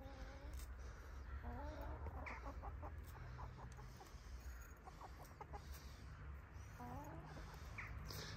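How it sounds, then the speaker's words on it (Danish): Backyard hens cluck and murmur in repeated short bursts over a steady outdoor hiss, fairly close and continuous throughout. "så han skal give mad til mine høns."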